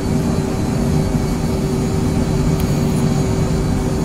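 Steady jet engine drone from an Embraer Phenom 100 in Microsoft Flight Simulator: a loud, continuous cockpit rumble with a constant whine, unbroken and alone throughout.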